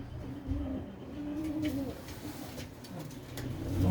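A female pigeon with white eyes and dark mottled plumage coos in soft, repeated throaty calls, fairly near but quiet, over faint background rustling.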